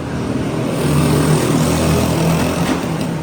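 Toy car fitted with a petrol engine driving past, a steady, loud buzzing small-engine drone held throughout without talk.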